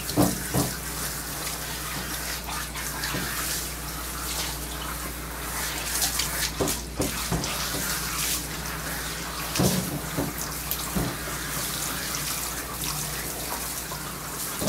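Steady water runs from a bath tap, rinsing a German Shepherd in a bathtub during a deshedding bath, a continuous splashing wash with brief clatters and no talk.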